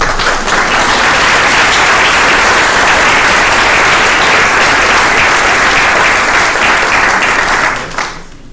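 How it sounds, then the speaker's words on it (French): An audience at a church talk applauds the speaker, loud sustained clapping from a full room that holds steady for about eight seconds before quickly dying away. "On peut exprimer notre reconnaissance à l'orateur en applaudissement."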